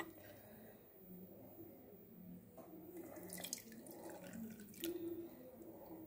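Blended carrot juice from a mixer is poured and strained through a filter, giving a steady trickle of liquid with occasional splashes and faint handling noises, close and fairly quiet.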